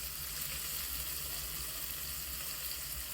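Onions tossed into a hot pan with cumin and star anise give a steady, even sizzle of frying that holds at a fairly quiet level throughout, with no voices over it.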